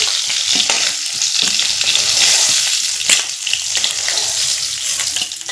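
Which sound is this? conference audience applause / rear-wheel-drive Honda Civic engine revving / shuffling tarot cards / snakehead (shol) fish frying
snakehead (shol) fish frying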